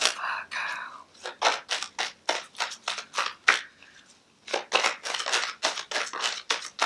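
Tarot cards being shuffled by hand, a rapid run of crisp riffling slaps close up with a short lull partway through, under soft whispered speech.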